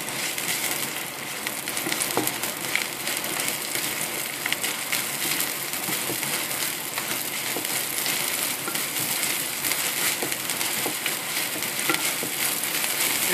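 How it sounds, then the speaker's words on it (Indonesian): Shallots fry in vegetable oil in a pan, giving a steady, close sizzle and bubbling crackle that holds evenly throughout with no talking. "Kemudian kita masak bawang merah."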